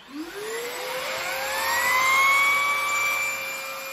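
A Perfect C105B vacuum cleaner with a turbine nozzle runs on low pile carpet. Its motor spins up fast at the start into a steady, loud whine that holds close to the microphone for the whole stretch and eases slightly near the end.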